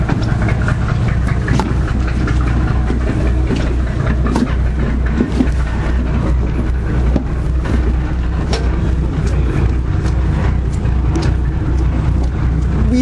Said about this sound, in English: Listen to the sound of that engine. It sounds like an old V8.